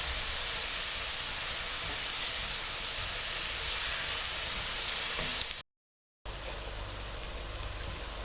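Onions fry in a pan for a matar fish masala curry, giving a steady, even sizzle and hiss throughout with a brief dropout near the end.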